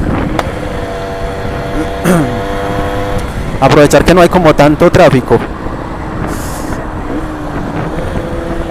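A motorcycle fitted with a replacement carburetor revs while riding through light street traffic, the engine note rising and falling in several sharp bursts, loud and close, with a rider talking over it.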